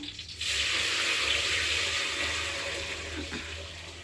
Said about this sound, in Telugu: ఇప్పుడు నీళ్ళు అయితే వేసేసుకుందాం ఆకుకూర నీళ్ళు